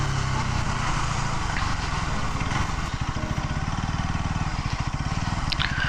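A Bajaj Pulsar NS 200 BS6 motorcycle engine runs with a continuous, rough low-pitched drone and rapid pulsing exhaust, steady and fairly close, with no talking.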